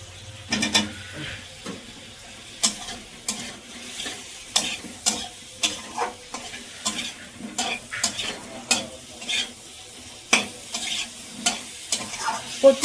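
Potatoes and cabbage sauté in a pan with a soft sizzle, punctuated by regular sharp scrapes and clinks of a spatula stirring against the metal, close and repeated throughout.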